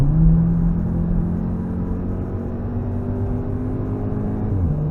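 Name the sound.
car engine at full throttle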